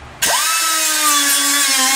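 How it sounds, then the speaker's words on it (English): Power drill cutting off the rivets that hold a black air duct on a postal LLV: an abrupt start into a loud, steady whine that holds close and continuous to the end. "there's six rivets holding it straight up and down, so we'll cut them off"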